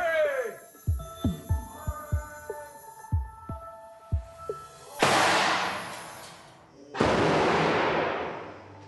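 A helium-driven laboratory gas gun fires at a carbon fiber specimen, giving two loud, sharp blasts with broad decaying hiss after a series of soft rhythmic thumps and tonal hums from the apparatus.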